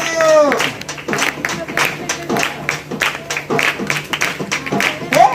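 A group claps rhythmically in time at a Telugu Christian prayer gathering, steady hand claps running through the whole stretch over singing and voices.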